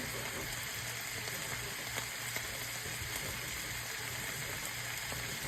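Fat renders down in a hot pan, giving a steady, even sizzle and crackle that holds at a constant moderate level without pause.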